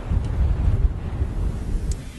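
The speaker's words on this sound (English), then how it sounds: "Really windy up here." Strong wind on a mountaintop buffets the microphone in a low, rumbling roar, gusting unevenly throughout with no other sounds.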